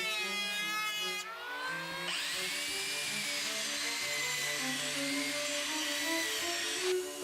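A wood router used freehand while shaping a wooden cello stand, giving a continuous high-pitched whine that shifts pitch as the bit bites into the wood and holds steady to the end.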